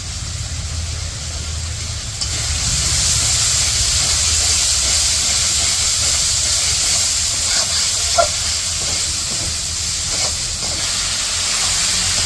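Prawns go into a pan of spice paste for a village-style curry, and a loud, steady frying hiss swells up after a couple of seconds and holds close, with faint clinks along the way.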